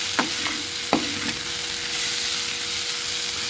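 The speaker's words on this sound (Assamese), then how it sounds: "শাকখন ভাজি লৈছোঁ।" Leafy greens stir-fried in a pan with salt, turmeric and chilli, giving a steady soft sizzle with a few sharp stirring scrapes near the start, heard alone without talk.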